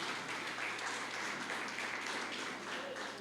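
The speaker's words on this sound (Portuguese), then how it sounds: "Você pode aplaudir a Jesus" A church congregation applauds during a Portuguese-language service, a steady, moderately distant wash of clapping that holds throughout.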